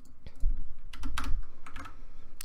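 A clicky computer keyboard is typed in quick, uneven bursts of sharp keystrokes, close and fairly loud, with no voices.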